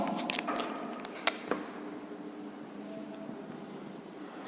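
Chalk or marker writes across a classroom board during a matrices lecture, with quick scratchy strokes and taps close by, the squeaks and scrapes coming in short bursts then thinning out.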